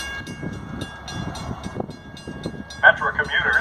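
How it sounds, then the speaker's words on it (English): A Metra outbound commuter train from Chicago rolls into a station with a low rumble, then a loud sustained horn blast near the end, heard under a station announcement voice. "The next outbound Metra train from Chicago is now arriving in your station"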